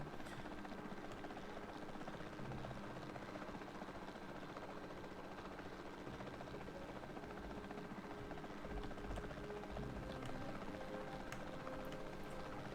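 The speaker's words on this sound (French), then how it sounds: "c'est pas le même hélico qu'on avait dans le premier Jurassic World Evolution" A helicopter in the video game Jurassic World Evolution 2 hums with a steady, faint rotor drone that holds evenly throughout, with no talk over it.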